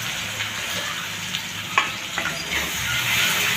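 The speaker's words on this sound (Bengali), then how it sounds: "পেঁয়াজটা দিয়ে দেবো তেলের উপর" Sliced onion goes into hot oil and fries with a close, bright sizzle, broken by a few stirring knocks and scrapes, and the hiss swells louder toward the end.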